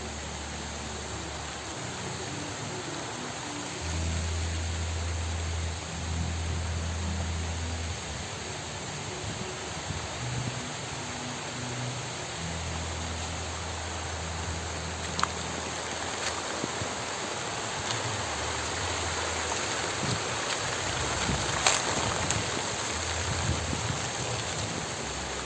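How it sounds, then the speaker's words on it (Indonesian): Heavy rain falls steadily at an outdoor bathing pool beside a grave site, a dense even hiss that holds throughout with a few sharper drip ticks and a low rumble beneath. "Di sini hujan besar."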